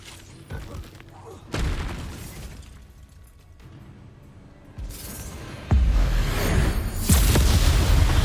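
Spell blasts from Hogwarts Legacy, with loud booming bursts striking near 1.6 s, 5.7 s and 7.1 s amid continuous battle rumble and crackle, building louder toward the end.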